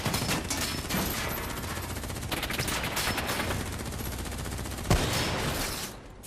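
Heavy gunfire rattles through a Call of Duty Black Ops 3 firefight, loud and continuous automatic bursts with a sharp louder shot near the end before the volley trails off.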